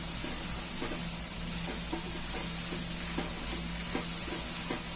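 Chilli, coriander and turmeric powders fry in a pan of dhaba-style matar paneer, giving a steady close sizzle with soft repeated stirring scrapes throughout.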